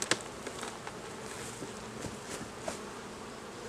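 Bees buzzing faintly around a hive during the day while most of the colony is out foraging, a low steady hum with a few louder passes of individual insects close by.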